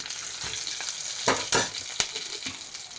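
Steady sizzling of whole coriander seeds frying in hot oil, with a few louder crackles and stirring scrapes breaking through the continuous hiss.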